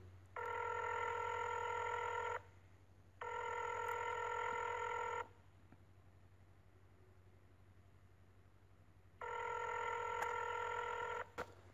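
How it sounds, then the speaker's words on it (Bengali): Outgoing phone call ringing while waiting for someone to answer: three evenly spaced, two-second ring tones separated by pauses, heard over a low steady hum, with no talking. "দেখি ফোনটা কে ধরে।"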